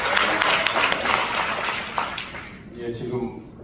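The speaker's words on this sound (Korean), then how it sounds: "박수 한번 부탁드릴까요?" Audience applause at an economics lecture, with a dense wash of clapping that holds steady, then thins and fades out while someone speaks under and after it.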